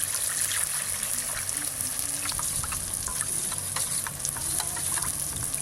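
Water being stirred into a bowl of ground cashew and poppy seed paste, a steady continuous watery swishing and trickling with soft clinks, close and alone without talk.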